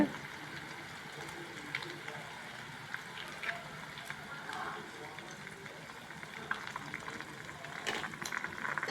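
Beaten eggs and leftover rice frying on low heat in a pan, a steady close bubbling sizzle with occasional faint scrapes of stirring, fairly quiet throughout.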